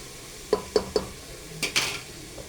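Ginger and green chillies sautéed in a pan: three quick metallic spatula knocks against the pan, then a couple of scraping stirs over a faint sizzle, close and fairly quiet.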